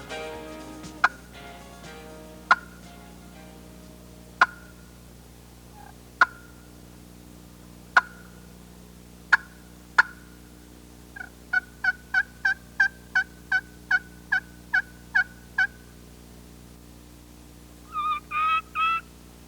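A hunter's turkey call gives sharp, evenly spaced single clucks, then a quick run of rhythmic yelps and a final short burst, clear and close against a quiet outdoor background.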